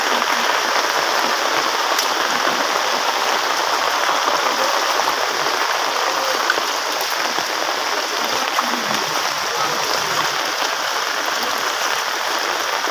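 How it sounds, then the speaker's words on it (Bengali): Heavy rain pours down during a spell of waterlogging and flood risk in Noakhali, Bangladesh, a loud, dense, unbroken roar of drops hitting surfaces for the whole stretch, with no voices. "বৃষ্টি কিন্তু বেড়ে চলেছে"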